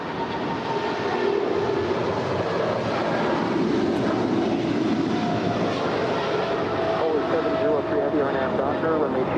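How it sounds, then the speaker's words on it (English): An eight-year-old Korean Air Cargo Boeing 777 freighter takes off from LAX as a steady, loud engine roar. Broadband rumble and hiss hold continuously across the whole stretch. "Korean Air Cargo 224 off to Tokyo Narita. It's an 8-year-old 777 freighter."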